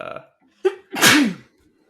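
A single sharp sneeze bursts out, a quick intake followed by a loud, breathy explosion, close to the microphone, after a brief murmur of talk.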